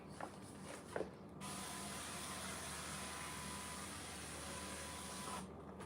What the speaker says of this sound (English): make sure that you spray your pan